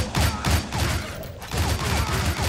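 Rapid bursts of gunfire from the side-scrolling action game Shank 2, loud and repeated in quick volleys with a short gap in the middle, heard alone without talk.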